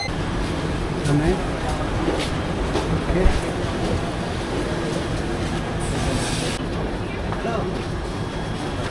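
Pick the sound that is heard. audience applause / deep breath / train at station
train at station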